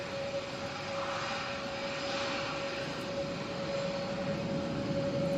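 Jet airliner departing Manchester Airport on a windy day, a steady distant roar of engines held at an even level throughout with no talk over it.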